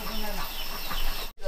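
Chickens cluck while being carried out to a coop on a rural homestead. Their calls are brief and partly masked by talking and background noise, ending in a short gap.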